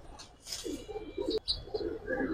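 Giribaz high-flyer pigeons give short throaty coos close by, several overlapping in quick succession, with a sharp brief click partway through.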